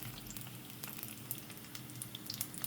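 Chicken nems fry in a pan over low heat, giving a steady, close crackling sizzle with scattered sharper pops throughout.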